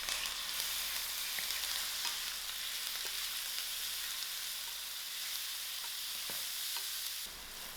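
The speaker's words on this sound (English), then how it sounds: "To my onions, firstly I'm going to fry out my meat." Mutton browning in a pan over onions with thyme and curry leaf gives a steady, close sizzle and hiss throughout, with occasional faint clicks from stirring and no talk.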